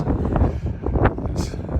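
Strong wind at John O'Groats on Scotland's coast buffets the microphone in a low, continuous roar with gusty swells and no clear voices.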